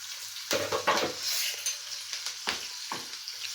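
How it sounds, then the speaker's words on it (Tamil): Ginger, garlic and green chillies fry in hot oil for a prawn pickle, giving a steady close sizzle broken by a few scraping stirs of a spoon against the pan. "இப்போ அதே எண்ணெயிலே நம்ம இஞ்சி பூண்டு நைஸா கட் பண்ணி வச்சிருக்கோம், அதை ஆட் பண்ணிக்கலாம்."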